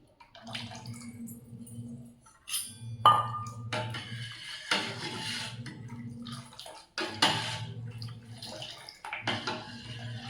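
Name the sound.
pouring hot water into maida flour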